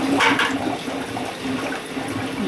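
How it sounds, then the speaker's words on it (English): Water gushes and sputters out through a bleeder port on an HVAC system, a steady close rush with mixed air, loudest at the start, no speech. "And as the water goes through, you'll hear it,"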